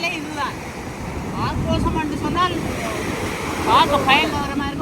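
Sea waves wash and break against the shore at a seaside spot, a continuous rushing surge with wind buffeting the microphone, while people talk over it now and then.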